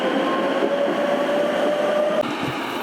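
Tatra KT8 articulated tram running at Albertov in Prague, a steady loud rolling rumble with a sustained wheel squeal that fades near the end, close by with no voices.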